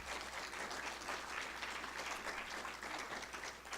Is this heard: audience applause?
yes